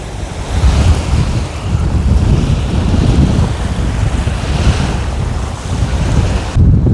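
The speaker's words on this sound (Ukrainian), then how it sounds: "Ще й вітер." Strong wind buffets the microphone in loud, continuous gusts, roaring and rumbling with no voices.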